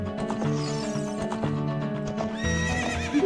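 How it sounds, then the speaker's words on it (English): A horse neighs and whinnies over the clip-clop of hooves in the Ocarina of Time video game, the game sounds loud and continuous with a rising whinny near the end. "Hey newcomer, you have a fine horse."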